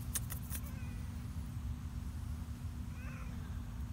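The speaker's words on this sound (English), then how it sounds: "Meow." A young bobcat hybrid, a yearling at most, gives a faint, brief meow outdoors over a steady low hum and rustling background.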